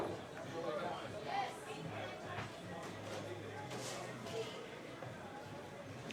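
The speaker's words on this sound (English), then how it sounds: "we've got a crowd building up here" Crowd chatter builds in a hall at a US Open 8-ball pool championship: a low, steady murmur of many distant voices with faint shuffling, and a nearer voice occasionally rising above it.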